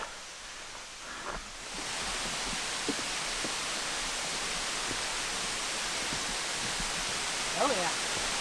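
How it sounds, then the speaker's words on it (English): Rushing waterfall at Pictured Rocks, Michigan, a steady broad roar of falling water that rises in after a quiet start and stays constant, with brief faint voices in the background. "There's a trail up here, I can hear it, a lot of water. So this will be the 4th waterfall of the trip"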